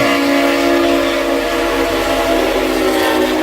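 Freight train sound effect featuring a sustained, loud horn blast that holds steady throughout, with a dense rumbling wash of rail noise underneath and no voices.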